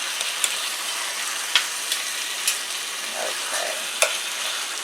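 Chicken pieces browning in a frying pan for authentic Northern Italian lemon chicken, a steady close sizzle with occasional sharp taps and scrapes from turning the meat.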